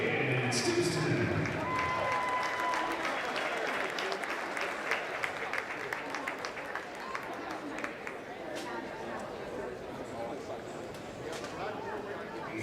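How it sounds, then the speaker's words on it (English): Crowd applause at a high school basketball game, Claremore Zebra varsity boys against the Pryor Tigers, a steady wash of many hands clapping with chatter mixed in, sustained and fairly even throughout. "Big round of applause for Aiden Stimpson."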